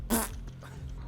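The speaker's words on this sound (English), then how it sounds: "take the pots of slime and make them fart" Cartoonish fart sound effect made by pots of slime in a Dungeons & Dragons session, one short loud burst at the start trailing into low rumbling background.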